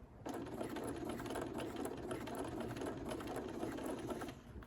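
A sewing machine stitches a circle, crossing past a seam it earlier ran out into; the motor runs in one steady, loud, continuous burst from start to finish with no talking.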